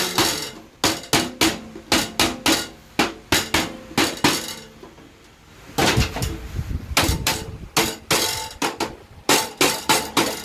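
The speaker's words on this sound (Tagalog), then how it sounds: "pupukpukin natin dahan-dahan lang." Repeated sharp metallic hammer taps on a refrigerator evaporator coil, ringing in quick steady bursts, pausing briefly midway before resuming, close and loud with no talking.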